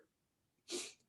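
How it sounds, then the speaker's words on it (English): One brief, sharp sneeze from a man during a business coaching conversation, close and fairly loud after a short quiet pause. "I'm going to sneeze real quick."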